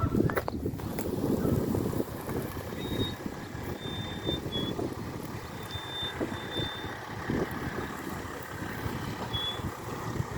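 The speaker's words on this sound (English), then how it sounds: "The white truck with the green on it is our delivery with the materials for our kitchen." A white delivery truck with green markings bringing kitchen materials, heard as steady engine rumble under wind noise with a few faint high reversing beeps spaced out over the stretch.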